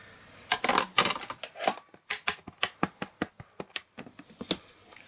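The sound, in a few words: inking a seashell stamp with an ink pad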